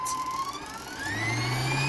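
Edison 2000-watt stand mixer with a 10-liter bowl, motor running at first speed, a close steady whir with tones that climb in pitch as it spins up.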